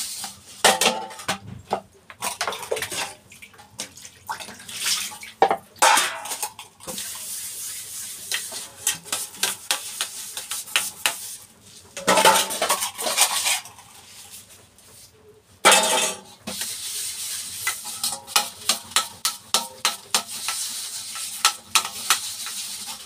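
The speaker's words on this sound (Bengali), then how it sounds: "বাসনগুলোকে আস্তে আস্তে ধুয়ে নিই" Dishes and utensils being washed, with irregular bursts of clattering metal and ceramic, clinks and knocks between quieter stretches of running water, close and fairly loud.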